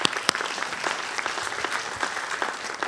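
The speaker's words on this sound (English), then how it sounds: "I think we should give them a round of applause." An audience applauds at an author program with former Attorney General Eric Holder and a former Atlanta mayor, a dense, steady patter of many hands filling the room for a few seconds.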